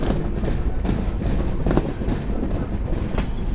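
The Sagardari Express intercity train curves into Mobarakganj railway station with a steady rumble of wagons and rhythmic wheel clatter, heard from on board.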